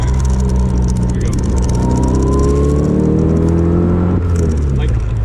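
A Porsche replica car downshifts and then accelerates hard, its engine note rising in stepped, climbing tones that are loud and close, with someone talking over the engine.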